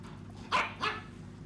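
A seeing-eye dog gives two quick barks in a row, fairly faint and a little distant, with no voices around them.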